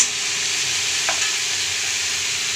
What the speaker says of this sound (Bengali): ভালো করে কষে নেবো এসব শাকের সঙ্গে।